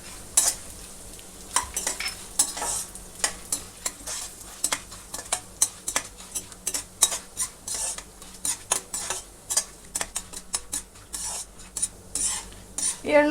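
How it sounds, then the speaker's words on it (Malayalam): Roasted gram and sesame seeds dry-roasting in a pan, stirred with steady, rhythmic scraping and rattling taps of a utensil against the metal, close and fairly loud, with no voices. "ഇനി ഇതിലേക്ക് ഈ പൊട്ടുകടലയിട്ട് നമുക്ക് വറുത്തെടുക്കാം"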